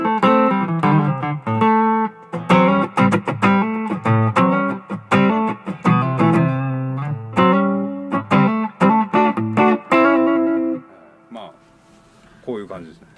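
Electric guitar played through a Nordvang Custom Gravity boost pedal and a distortion pedal, loud and close, with rhythmic chords and sustained notes ending on a ringing decay, low end emphasized.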